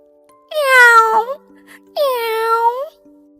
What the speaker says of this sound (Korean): 고양이는 말없이 고개를 끄덕이며 부드럽고 조용한 소리로 울었어요.